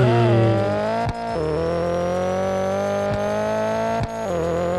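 A car drifts in the Need for Speed Unbound racing game, with a loud, sustained engine drone and tire squeal that holds steady, briefly dipping at a few gear shifts or cuts.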